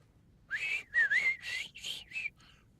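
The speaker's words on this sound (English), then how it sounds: "Bad whistling." A tuneful whistled phrase in Baldur's Gate 3, five or six close, wavering notes heard alone and fairly clear.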